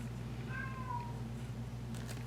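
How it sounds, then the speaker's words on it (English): A house cat meows once, a short rising-then-falling call, faint and somewhat distant over a steady low indoor hum. "Can you hear the cat meowing?"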